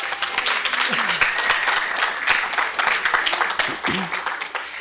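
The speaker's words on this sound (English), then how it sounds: "it's you that deserve the applause" Audience applause at a community gathering, steady clapping throughout with a voice speaking over it in places, moderately near.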